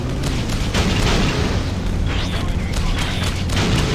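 A missile impact explosion in the Freelancer space video game swells into a sustained, loud, rumbling boom that fills the whole stretch, with cockpit voice chatter mixed in.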